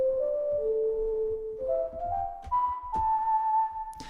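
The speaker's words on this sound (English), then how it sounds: "I chose a whistling sound because it seemed to really fit" Sampled whistling from a whistle sample library, a few sliding, sustained melodic notes rising in pitch, fairly soft and close with a faint click at the end.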